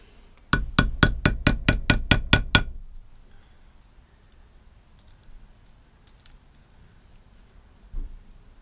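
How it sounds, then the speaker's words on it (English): A hammer strikes a popper fitting tool, driving a press-stud popper into a hole: about nine sharp, evenly spaced metallic blows in quick succession, close and loud, followed by quiet room tone and one faint later knock. "then you just basically hit it with a hammer"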